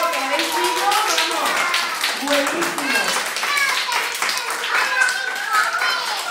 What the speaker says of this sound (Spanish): Y le vamos a dar un aplauso muy fuerte por lo bien que nos ha explicado las cosas